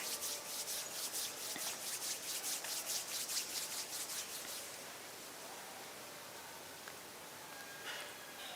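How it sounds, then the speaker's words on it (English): Palms of the hands rub together in a rhythmic rapid swishing for about four seconds, close and soft, then stop, leaving a quiet room hiss. "gently rub the palms of the hands against each other"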